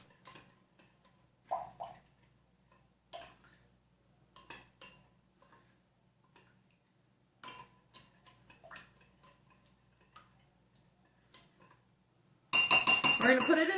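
A spoon scrapes and clinks against a dish of sweet and sour sauce in scattered, irregular taps, fairly quiet, ending in a sudden loud burst of noise.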